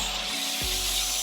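Short, close scraping and rubbing as a bottle is twisted into place on an InstaCuppa soda maker, a brief gritty friction sound over a steady background hiss.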